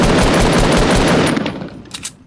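Dense, continuous automatic gunfire from an assault rifle in the video game Fortnite, loud and sustained for over a second before tapering off into a few scattered, fading shots.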